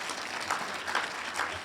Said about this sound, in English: Give us a round of applause for that, for black men.